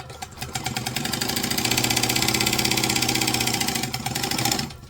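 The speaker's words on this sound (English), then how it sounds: "I just back stitched too fast and wrecked my bobbin thread" A sewing machine back-stitches fabric, its motor running in a fast, steady mechanical chatter for several seconds before slowing at the end.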